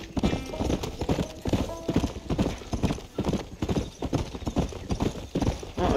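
Horse hooves gallop in Red Dead Redemption, a fast, close and continuous clip-clop drumming with a faint whinny among the beats and no talking.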